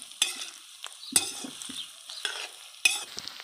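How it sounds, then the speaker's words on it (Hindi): Boiled potatoes are mixed with green chillies in a pan, with a few sharp scrapes and stirring knocks over a faint, quiet sizzle and no talk. "इनको हम अच्छे से हरी मिर्ची के साथ मिक्स कर लेंगे इस तरीके से"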